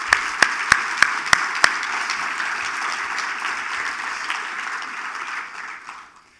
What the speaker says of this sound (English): a big round of applause to you guys